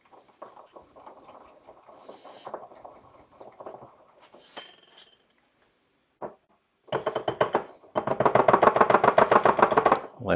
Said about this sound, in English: It was too thick at the start, so we have to use manual tiny whisk.